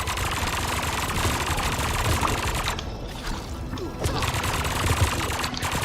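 Sustained rapid machine-gun fire from a turret in the video game Funko Fusion, a dense, loud, continuous rattle of automatic shots running without a break throughout.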